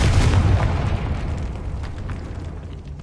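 A Confringo blasting spell detonates in the Hogwarts Legacy video game, a loud booming explosion with a deep rumble at the start that fades into a long decaying tail, no voices over it.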